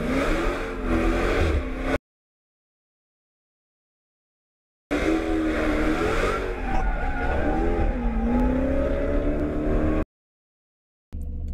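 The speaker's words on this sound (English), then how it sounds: "It was so cool to be in the car with a professional drifter." Car drifting with a professional drifter at the wheel, engine revving hard and tyres skidding and squealing in long sweeping wails, loud and close from inside the car, in several bursts separated by silent gaps.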